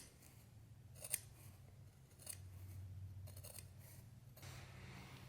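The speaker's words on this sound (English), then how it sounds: "I'm keeping that bottom part of the scissors pressed up against underneath, so I'm not cutting into too much of that wool." Scissors snip through sheepskin wool for a trapper hat, a few quiet, crisp cuts and soft rustling of fleece, close and faint, with no talking.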